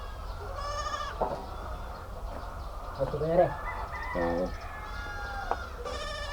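Several goats bleat in short, wavering calls scattered across the clip, one after another, over a low background hum, with a person speaking briefly.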